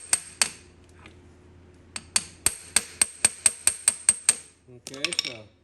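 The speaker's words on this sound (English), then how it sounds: "I'm going to use this to tap on them and loosen them." Hammer tapping screws on the clutch cover of a Honda CT110 motorcycle to loosen them, a rapid run of sharp, close metallic taps in an even rhythm, followed by a short scraping rattle.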